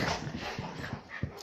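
Dogs scuffle over a toy tiger, giving short whimpers and yips with scrappy bursts of movement, close and moderately loud, amid a busy indoor background.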